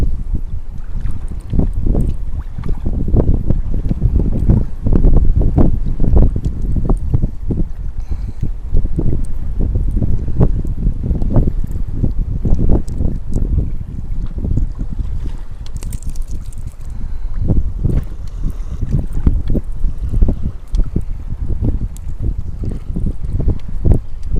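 Fierce wind sweeps across open water while someone fishes for perch from a small boat, a constant loud rumbling roar buffeting the microphone with sharp gusts throughout.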